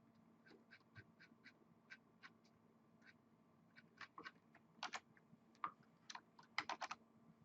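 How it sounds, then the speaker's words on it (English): Computer keyboard being typed on, scattered light clicks and short bursts of keystrokes, some heavier taps toward the end, faint and close in a quiet room. "my keyboard finally started working"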